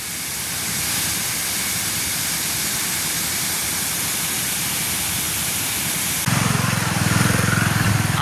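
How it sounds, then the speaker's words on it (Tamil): Heavy rushing water roars continuously over the spillway of Muthaiyankattu reservoir after heavy rain, a broad, steady wash of noise, growing louder and harsher near the end. "தண்ணியை பாருங்கள் எப்படி பாயுதுண்டு."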